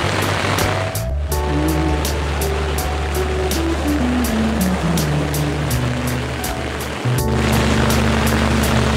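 Continuous rushing, sloshing wash of deep typhoon floodwater on a blocked street, steady and loud from start to end, with faint engine or vehicle tones drifting underneath and a brief dip around the one- and seven-second marks.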